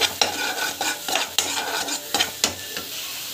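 Raw plantain and vegetables sautéed with salt in a pan, a bright hiss under rhythmic scraping strokes of a spoon, several per second, close up and without talk.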